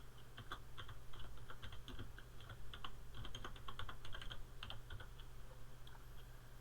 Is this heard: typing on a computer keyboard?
yes